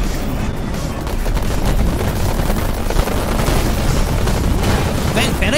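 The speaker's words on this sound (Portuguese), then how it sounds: "Para de atirar em mim, pô." Weapons fire in Pacer, an F-Zero-style futuristic racing game, comes as a dense, continuous barrage of rapid shots and blasts, loud and unbroken across the whole stretch.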